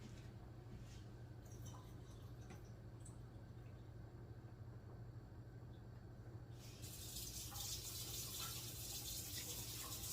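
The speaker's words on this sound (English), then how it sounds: "I've opened up a can of tuna and I'm going to drain it real quick" Liquid drained from an opened can of tuna pours and splashes steadily over a sink, with a brighter, louder rush of water in the last few seconds; no voices.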